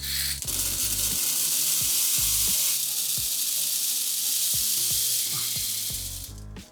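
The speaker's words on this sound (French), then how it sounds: "Plus je vais verser de perles, plus la télé aura des couleurs fidèles." Beads poured into a container, a dense continuous rattling hiss of many small pieces streaming down, loud and close, with intermittent clicks and taps, tapering off at the end; no talking.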